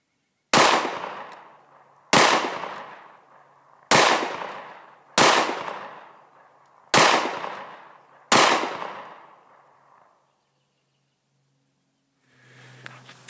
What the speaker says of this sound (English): The 357s are full power 357s that I'll be shooting through here